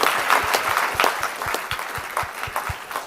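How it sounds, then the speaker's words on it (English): An audience applauds at the 2025 Queensland Australian of the Year Awards ceremony, with dense, steady clapping that continues throughout and shows slight rhythmic pulses. "ladies and gentlemen, another round of applause."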